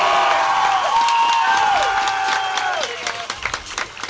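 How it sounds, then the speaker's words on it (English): At a 4A state softball championship, a crowd cheers and applauds loudly throughout while an announcer introduces the Liberty Lady Panthers. Dense clapping continues under the announcer's voice and thins out toward the end. "this crowd is going to get loud"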